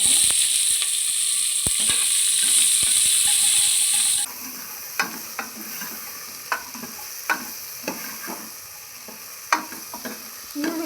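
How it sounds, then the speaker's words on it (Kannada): Chopped onions tipped into a pan for dal sambar with asafoetida, a loud steady sizzle that drops suddenly, then quieter frying with a sharp stirring scrape every second or so. "ಈಗ ಎರಡು ಈರುಳ್ಳಿನ ಕಟ್ ಮಾಡಿ ಇಟ್ಕೊಂಡಿದ್ದೀನಿ ಅದನ್ನ ಹಾಕ್ತಾ"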